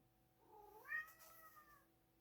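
A cat lets out a single quiet, whiny meow, rising and then trailing off, heard alone against a faint background hum.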